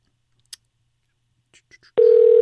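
A telephone ringback tone in an unanswered call sounds loud and steady after a few faint clicks and short blips, holding on without a break as the clip ends.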